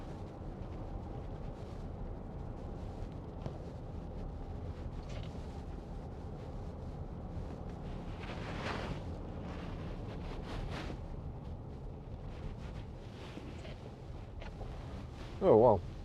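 Inside the cabin of a 2012 Land Rover Discovery 4 3.0 SDV6 XS automatic 4WD on the move, a quiet, steady low road and engine rumble continues throughout, with a brief louder knock near the end.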